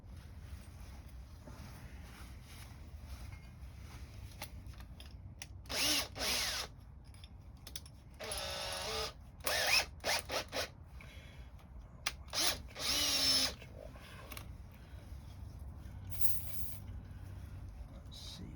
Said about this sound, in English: do it with the hand drill.